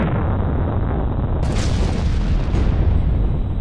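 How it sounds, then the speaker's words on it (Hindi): Bomb explosion sound effect, a loud, sustained rumbling blast that fills the whole span, with a sharper burst partway through and no talk. "बम क्यों गिराया?"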